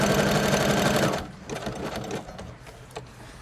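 A sewing machine stitches pockets in a loud, fast continuous run for about a second, then stops, leaving softer handling rustles and clicks nearby.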